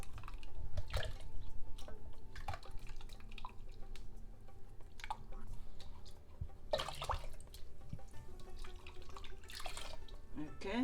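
Tamarind paste broken by hand into dal and water in a kitchen, giving wet dripping and trickling sounds that recur close by over a steady background, with a voice speaking.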